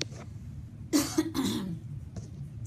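A couple of short, close allergy coughs, the second harsher and longer, followed by a faint throaty sound.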